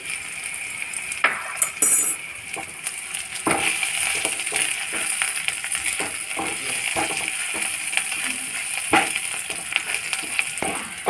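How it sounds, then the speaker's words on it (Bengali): Onions frying with salt in a pan for a spinach mash, a steady close sizzle with occasional clinks and stirring scrapes throughout, no talking. "পেঁয়াজটার মধ্যে একটু নুন দিয়ে দিচ্ছি, তাহলে তাড়াতাড়ি হয়ে যাবে।"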